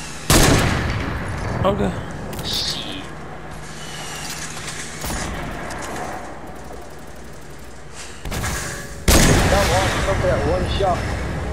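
Gunfire in Fortnite: sharp loud bursts of shots open the stretch, a quieter rattle and other game noise run through the middle, and a second heavy volley comes near the end, with a brief spoken word mixed in.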